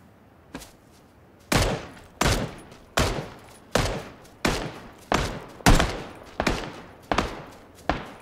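Gunfire in the battle royale game PUBG: a single shot, then a steady series of about nine loud, evenly spaced booming shots, each with a decaying tail, with no talking.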